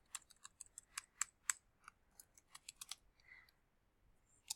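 Quick bursts of typing on a computer keyboard, light close clicks in uneven runs with short pauses, quiet and without talk.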